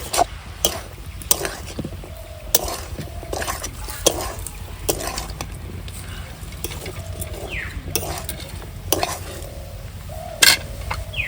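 Bread pieces frying with spices in a pan over high heat, a steady close sizzle broken by repeated sharp scrapes and clinks of a spatula stirring against the metal.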